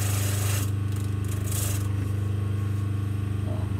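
Sandpaper scrubbing deep rust off a curved metal surface, a steady, close, continuous rasping rub with no pauses and no talk.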